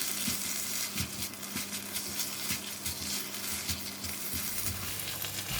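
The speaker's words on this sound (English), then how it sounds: "Once put in the basil leaf, just give it a couple of stir" Minced pork with basil leaves being stir-fried in a pan, a continuous sizzle broken by regular scraping stirs and clanks from the spatula, close and steady, no voices.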